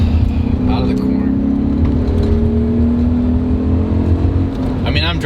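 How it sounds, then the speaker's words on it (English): A BMW M5 accelerating in third gear at around 50 mph out of a corner, its engine drone rising steadily in pitch over road and wind noise, heard from inside the cabin with someone talking over it. "So we're going around, shift to third gear at 50 miles an hour."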